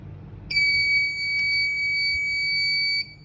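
An Arduino buzzer on a smart blind stick, set off by an ultrasonic sensor when an object comes within 8 centimetres, sounds a single steady high-pitched electronic tone for about two and a half seconds over faint background hiss.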